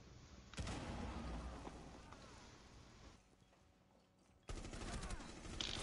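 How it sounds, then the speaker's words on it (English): Loud gunfire rattles through a Rainbow Six video game gunfight in dense automatic bursts. The shooting dips into a brief quieter lull before erupting again at full intensity. "I won that gunfight."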